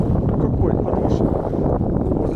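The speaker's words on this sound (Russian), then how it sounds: "Ветер прям вообще" Steady, loud rushing wind buffets the microphone throughout at a lake shore, a broad low roar with no breaks.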